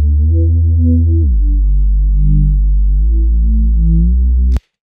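Sine-wave synth bass built in Serum with always-on portamento, loud and alone, holding low notes that glide smoothly down and back up between pitches before stopping abruptly.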